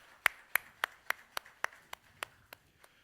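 A church congregation claps during a Korean Sunday worship service: about ten sharp claps in a steady, evenly spaced rhythm, fairly close and with no talking.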